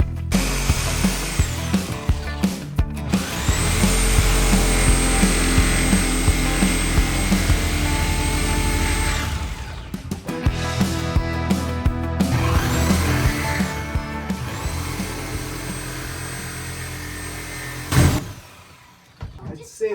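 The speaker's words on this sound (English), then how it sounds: "I boxed something with the Sawzall." Reciprocating saw cutting through a fiberglass sailboat deck to separate it from the hull on a Siren 17, a loud, steady buzzing drone with brief pauses and restarts, voices talking nearby.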